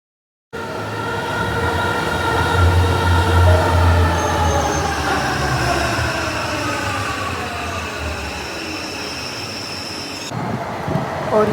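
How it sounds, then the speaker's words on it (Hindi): A metro train rolls into a station, loud and close, its rumble and rising whine settling as it slows, with faint squeals near the end. "और यह हमारी ट्रेन भी आ गई।"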